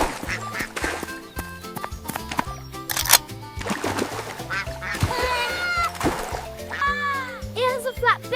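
Cartoon duck quacks in bursts over busy children's music, with a narrator's voice and other animal calls mixed in; the quacks are moderately loud and repeated rather than alone.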